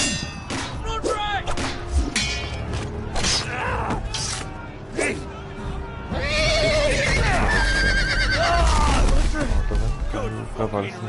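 Horses neigh and whinny repeatedly in the Game of Thrones video game, mixed with metallic clangs and game effects, with voices speaking over the sounds throughout.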